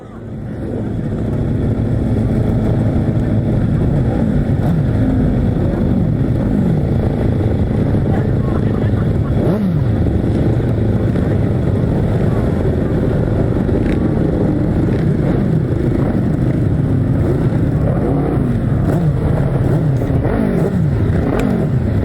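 Left-hand racing sidecar outfits roar around a grasstrack circuit, engines droning loud and continuous with rising and falling revs as machines pass, and a commentator's voice can be heard over the noise.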